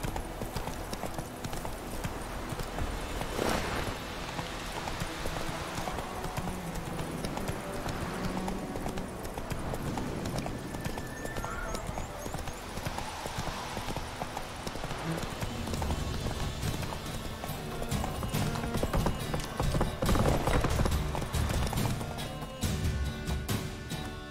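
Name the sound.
horse hooves in The Witcher 3 video game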